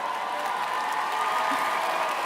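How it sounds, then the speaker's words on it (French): Steady, dense audience applause at the Flammes 2025 awards ceremony, sustained and even throughout with no voices over it. "C'est pas moi qu'il faut applaudir."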